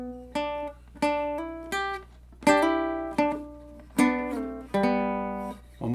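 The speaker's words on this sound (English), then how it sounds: "If you just play the pick, it's going to sound like this." A baritone ukulele is picked note by note in a short, slow phrase, with about eight clear plucked strings ringing out one after another. It is close, moderately loud and has no talk over it.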